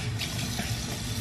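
Water pours steadily into a bathroom sink, a continuous close splashing and trickling rush with no voices over it.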